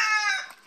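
A chicken's high, drawn-out crowing call close by at a chicken coop, fading toward the end, with no talk.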